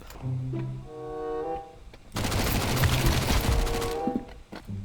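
Rapid bursts of automatic gunfire from a Counter-Strike style game, loud and dense for a couple of seconds, preceded by quieter electronic tones and clicks.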